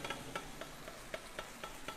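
Bacon frying in a pan until golden, a soft, quiet sizzle with regular light scraping or stirring taps about every quarter second, no voices.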